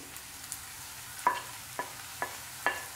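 Spice powders of chili, turmeric and coriander being sautéed for a vegetable kurma, with a steady low sizzle and four distinct scraping stirs of a spoon against the pan, close by and with no talk.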